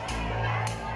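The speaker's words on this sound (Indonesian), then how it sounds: "Putusan itu pun langsung disambut sorak-sorai pengunjung yang sejak pagi hari sudah memadati" Visitors packed into a courtroom cheer and shout together at a verdict in a criminal trial, a dense, loud burst of crowd noise filling the short moment.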